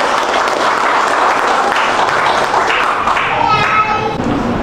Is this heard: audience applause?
yes